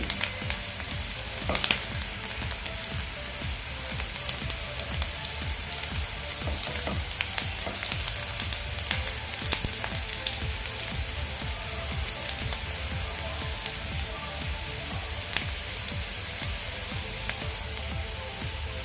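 Garlic frying in oil in a pan, browning before tomatoes go in, a steady close sizzle with occasional sharper crackles, continuous throughout with no voice.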